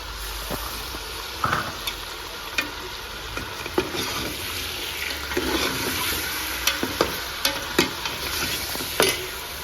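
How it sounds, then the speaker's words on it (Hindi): Chicken pieces frying with garlic and ginger in a pot for nihari, a loud continuous sizzle broken by repeated sharp scraping and stirring knocks from a spoon, close up and without speech. "लहसुन अदरक के साथ जो है मैंने इसकी 1-2 मिनट भुनाई की है"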